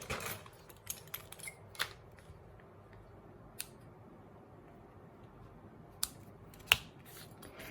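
Scissors snip through paper while a handmade stamped card is cut, giving sparse, quiet, sharp clicks scattered over a near-silent room, with a louder snip near the end.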